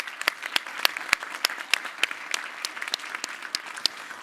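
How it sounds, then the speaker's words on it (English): Audience applause for conference panelists, a steady patter of many hands clapping in a hall, moderately loud and sustained for several seconds with no talking over it. "Can I ask for a big round of applause for my panelists in this session?"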